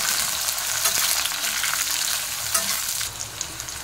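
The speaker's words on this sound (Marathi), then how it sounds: "आता आपण टोमॅटो टाकूया, मिरची टाकूया, चांगला परतून घ्यायचं असं" Tomatoes and green chillies sautéing in hot oil for egg rice, a steady loud sizzle with stirring scrapes throughout, brightening near the end as more moisture hits the pan.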